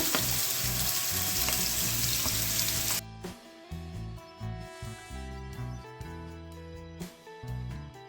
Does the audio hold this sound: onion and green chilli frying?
yes